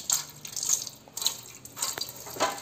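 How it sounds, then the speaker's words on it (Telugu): Water dripped and trickled onto removable refrigerator parts being cleaned, short splashy bursts and drips close by in a quiet room, several separate pours over a few seconds. "కొంచెం వాటర్ డ్రాప్ చేసి"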